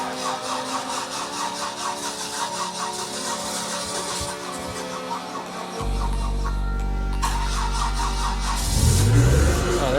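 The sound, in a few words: car engine cranking and starting in freezing cold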